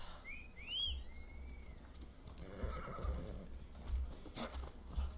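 A horse in Assassin's Creed Odyssey gives a high whinny at the start, then its hooves clip-clop softly over low game ambience and faint bird calls, all quiet and without talk.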